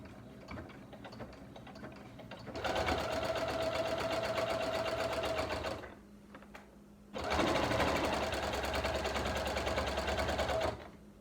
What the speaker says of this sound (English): Stitching in the ditch as I go, outlining the larger part of the square.